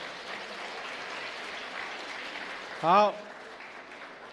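A congregation at a Sunday church service claps together, a soft, even patter of many hands in a large room, with one short spoken word near the end.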